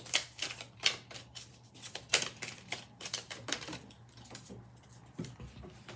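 A deck of oracle cards being shuffled by hand, a close run of crisp, rapid riffling flutters and slaps in uneven bursts that soften toward the end, with no voices.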